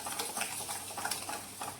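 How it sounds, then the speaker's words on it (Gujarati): Wheat flour roasting in ghee in a pan for sheera is stirred continuously, a soft even scraping rustle with a faint sizzle, quiet and close. "હવે એમાં ધીરે ધીરે આપણે લોટ ઉમેરતા જઈશું અને હલાવતા રહીશું।"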